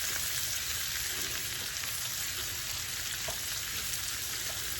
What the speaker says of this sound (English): So we're going to let that cook for a few minutes until our onion gets a little bit tender and translucent.